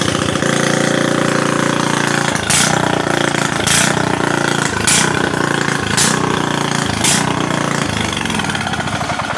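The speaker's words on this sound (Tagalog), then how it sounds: "Ubos na yung laman sa kanyang karburador. Wala siyang gasolina kaya ganun yung tunog." A brush-type generator engine with an empty carburetor and no gasoline runs loud and rough, with a steady drone broken by about five sharp sputtering bursts in the middle stretch.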